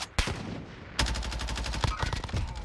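Gunfire rings out in the Warzone video game, a sharp single shot followed by a rapid, loud burst of repeated shots close by, continuing in quick rhythmic cracks to the end.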